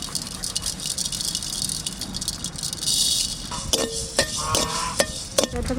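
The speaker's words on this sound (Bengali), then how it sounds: "এবার শুকনো কড়াইতে আমি একটু জিরে আর ধনে ভেজে নেব" Cumin and coriander seeds dry-roasting in a dry karahi, a steady soft rattle and scrape of seeds being stirred, with sharper clinks and knocks of the utensil near the end.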